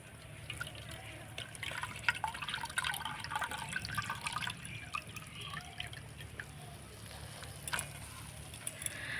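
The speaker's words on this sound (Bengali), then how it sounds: "জল দিয়ে ভালো করে একটু মুড়িটাকে ধুয়ে নেব।" Puffed rice being washed by hand in a bowl of water, soft irregular sloshing and dripping with small splashes, fairly quiet and close throughout.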